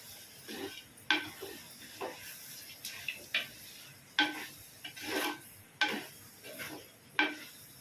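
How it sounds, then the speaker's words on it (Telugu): Chopped tomatoes being stirred into a cooking pan for a mutton and dosakaya curry: a run of close, irregular scraping and clinking stirs, with sharp knocks about every second over a low simmer. "ఇంకా కోసిన టమాటాలు వేసుకుందాం. వేసి ఒకసారి కలుపుకుందాం."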